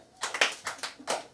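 A small group claps hands at a church service, with four or five sharp, separate claps in quick succession at close range and moderate loudness.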